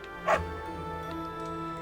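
A dog in the Fire Emblem: Three Houses video game gives a single short bark, moderately loud against a steady background of game music.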